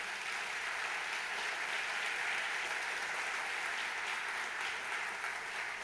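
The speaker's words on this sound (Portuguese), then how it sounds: "Você pode aplaudir o Senhor?" A church congregation applauds the Lord during a Portuguese-language sermon, an even wash of clapping held at a steady level throughout, heard somewhat distant.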